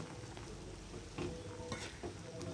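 Crackling sizzle of curry leaves dropped into hot oil, with a few stirring scrapes over a steady frying hiss.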